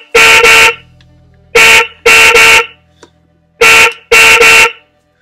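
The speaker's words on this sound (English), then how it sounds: "By the way, it can honk." A motor scooter's horn honks in five short, loud blasts, arranged as one single blast, a quick double, then another double, with quiet pauses between them.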